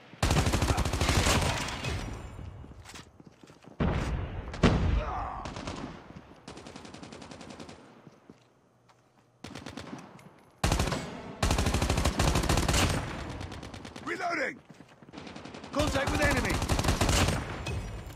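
Automatic weapon fire in the Call of Duty video game rattles in long, loud bursts with short gaps between, close and dense, while no one speaks.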